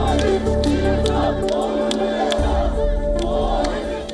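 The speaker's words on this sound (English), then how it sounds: "But the crowd stood firm, chanting for justice, democracy, and the release of their mayor." A large protest crowd chants in unison for the jailed mayor, a dense, loud roar of many voices with rhythmic shouted pulses, continuous throughout.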